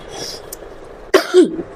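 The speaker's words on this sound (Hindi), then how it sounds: "मेरा थोड़ा सा गला खराब है और खांसी भी हो रही है" A teacher with a sore throat coughs once sharply and clears her throat, a close, loud burst followed by a rough throat sound, with quiet room tone around it.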